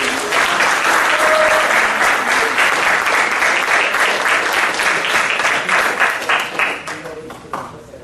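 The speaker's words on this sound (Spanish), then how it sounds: "Un fuerte aplauso." A large audience at a book launch for a secondary students' movement gives loud, sustained applause that holds steady for several seconds, then thins out and fades near the end.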